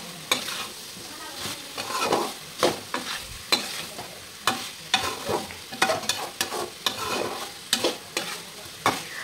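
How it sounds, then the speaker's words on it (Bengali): Potatoes and fried dried salted fish sautéed together in a pan, steady sizzling broken by repeated rhythmic scraping stirs of a spatula, close and without talk. "তো এখন দিয়ে দিব সেই ভেজে রাখা শুটকিগুলো উপর দিয়ে দিয়ে আলুগুলোর সাথে 2-1 মিনিট কষিয়ে নেব"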